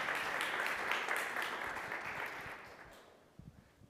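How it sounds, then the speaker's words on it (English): Audience at the Mars Habitat Challenge 2022 conference applauds after a presentation, a fairly faint, even wash of clapping that thins and fades out toward the end. "This is your applause."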